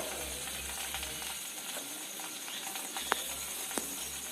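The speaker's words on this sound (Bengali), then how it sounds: "এই দেখো এর ভিতরে আমি মাছ দিয়ে দিচ্ছি একে একে" Pangas fish fries in hot oil in a wok as a faint, even sizzle with a couple of small metallic clinks.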